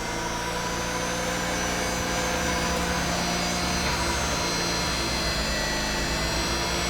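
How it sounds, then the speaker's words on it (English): A Mazda Renesis rotary engine idles evenly throughout, a continuous low rumble with a broad mechanical whine on top, fairly loud and close. "It turns on. immediately, which is nice."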